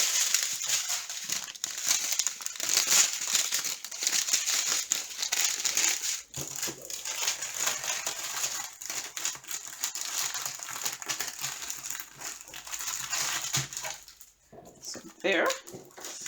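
Sheets of sticker paper from a diamond painting kit crinkle and rustle close up as they are handled, under steady talking throughout.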